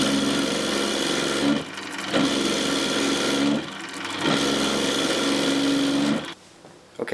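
A power drill bores through a zebrawood pen blank in long steady whirring runs, close and loud, broken by two short pauses and stopping near the end.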